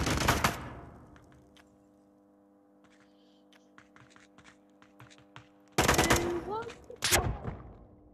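Sharp bursts of gunfire crack out in the virtual reality shooter Onward VR, with a heavy volley at the start, sparse clicks and a low hum in between, and another close, loud fusillade near the end.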